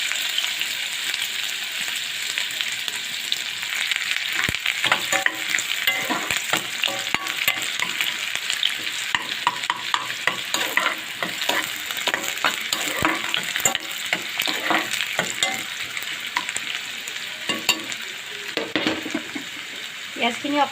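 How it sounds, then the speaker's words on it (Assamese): Chopped onions fry in hot mustard oil for a fish roe and brinjal dish, giving a steady, close sizzle with frequent scraping stir strokes throughout. "পিঁয়াজখিনি অকণমান সময় ভাজি লওঁ"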